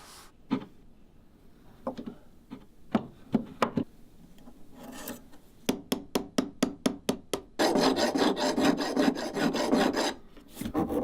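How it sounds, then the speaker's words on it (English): Hand rasps, files and rubbing work on soft limestone during relief carving of a logo: a series of sharp scraping strokes, then a faster run of crisp rasping strokes, ending in a dense, sustained grinding rub, close and alone. "Then I rub the face of the stone where the logo is to get rid of all the pencil marks."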